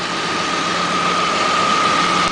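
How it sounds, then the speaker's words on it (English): A car engine running solely on hydroxy gas from a homemade generator idles steadily, a constant close hum with a faint whine on top, unbroken for the whole span. "It is running, proving that it can be done."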